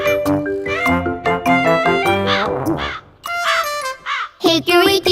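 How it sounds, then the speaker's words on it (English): Cartoonish crow caws from a funny sound-effect sequence: a run of loud, tonal, wavering calls in quick bursts, broken by a short pause about midway. "crow!"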